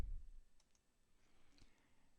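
A computer mouse clicks on a Save button. A few soft, faint, isolated clicks sound in a very quiet room, with no talking.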